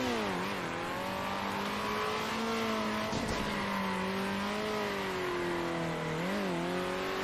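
A green number 83 race car in the video game Circuit Superstars drives steadily, its engine holding a continuous buzzing whine that rises and dips with throttle changes through corners, loud and close throughout with no talking.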